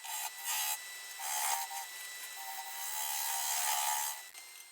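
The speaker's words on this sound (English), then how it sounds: "And here I'm shear scraping with a spear point tool." Spear point tool shear scraping a butternut wood vase spinning on a lathe, a close, continuous raspy scraping that rises and falls in short strokes, with no talk.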